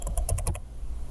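Numbers typed on a computer keyboard while entering width and height values in GIS software: a quick run of about seven close, crisp key taps, then quiet.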